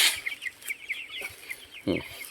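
Chickens cluck in a shaded, roofed backyard coop, several close, rapid clucks and chattering calls in an irregular rhythm with a louder squawk near the end.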